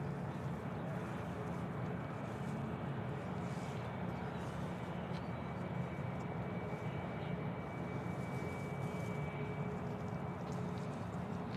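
Faint, distant jet engine rumble from a Southwest airliner at Nashville International Airport, a steady broadband roar that holds evenly without a clear approach or fade.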